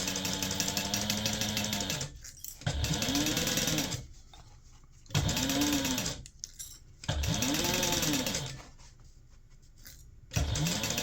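A sewing machine stitches a fabric gift bag in loud, close bursts of steady whirring, each with the motor's pitch rising and falling, separated by short gaps.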